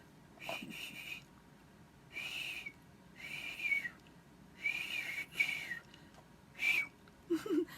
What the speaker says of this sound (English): I guess I can whistle a little better than before.